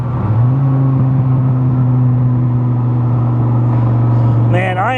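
A 2004 Dodge Viper's engine pulling hard in third gear, a steady loud droning hum that holds nearly level from the cabin, with a rising whine climbing at the end.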